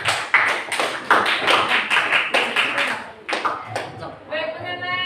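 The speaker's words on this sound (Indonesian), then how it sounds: "beri aplaus untuk teman" Applause for a classmate in an Indonesian school civics class, a dense burst of clapping from many hands lasting several seconds, close and loud, fading into a brief murmur of voices at the end.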